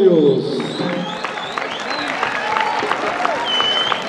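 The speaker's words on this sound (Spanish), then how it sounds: "le vamos a pedir un fuerte aplauso" A crowd at a rodeo event at a ranch in Ejutla, Jalisco, gives moderate applause with scattered claps and cheering, while a voice on a loudspeaker and crowd chatter carry over it.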